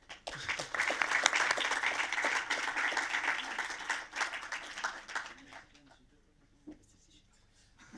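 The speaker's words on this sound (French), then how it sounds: "je crois qu'on peut l'applaudir." Audience applause at a film festival meeting with a Fribourg film company, a dense burst of clapping that holds steady for about five seconds, then thins out to a few scattered claps and faint voices.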